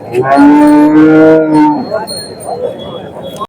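At a cattle market, a large HF cow gives one long, loud, close moo that lasts over a second, followed by a mix of background market chatter and noise.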